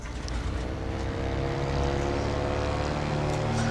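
Airplane flying in the video game Just Cause 2, a loud, steady propeller-engine drone with a sustained low hum that swells slightly and holds, no voices over it.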